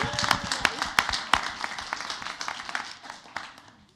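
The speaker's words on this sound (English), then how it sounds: "let's give a round of applause for those really brave kids and awesome staff" Clapping at a school district board of education meeting honoring students and staff, a burst of sharp individual claps that is busy at first and thins out as it fades.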